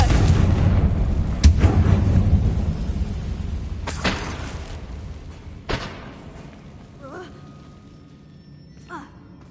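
Confringo fire spell in Hogwarts Legacy bursts with a heavy boom followed by sharp blasts and a fading rumble.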